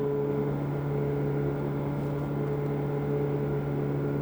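A Ferrari engine is driven through the gears on a road near Issoire, giving a steady, droning hum with strong low tonal lines and no clear rise in pitch, heard alone throughout.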